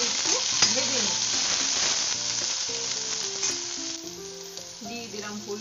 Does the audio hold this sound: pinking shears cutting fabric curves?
no